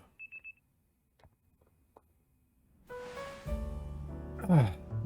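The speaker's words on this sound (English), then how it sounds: "The next day, your alarm is going off." A game alarm in Pokemon Legends ZA: a few short beeps at the start, then a sustained, rising electronic ringing tone that swells to a loud burst near the end.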